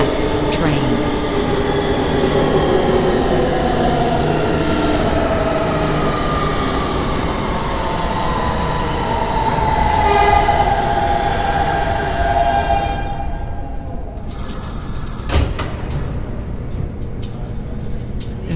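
A Kawasaki R160B subway train in a Roblox game rolls along the IND Crosstown Line with a continuous rumbling drone and rising motor whine, followed by a brief sharp burst near the end; no one speaks over it.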